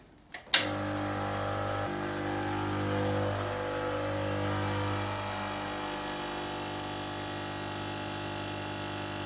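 A Gaggia Ruby espresso machine pulls a shot after a sharp click at the start, then its pump settles into a steady, buzzing vibrating hum that fades slightly toward the end.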